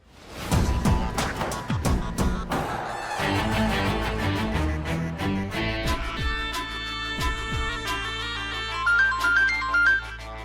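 A phone ringtone plays loudly and continuously, a busy melodic tune with a percussive opening that settles into repeating electronic notes.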